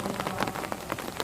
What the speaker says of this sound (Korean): 천왕문 입구에 도착하니 갑자기 소나기가 내리기 시작하네요.